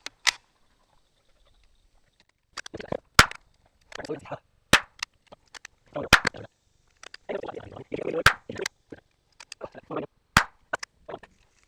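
Shots from a Glenfield Model 10 .22 single-shot rifle crack out one at a time, sharp and loud, spaced a second or two apart, with someone talking in between.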